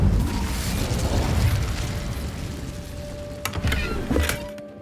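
In the Hogwarts Legacy video game, an Incendio fire spell goes off as a dense roaring whoosh of flame that stays loud, then gives way to a few sharp crackling pops and a fading hum.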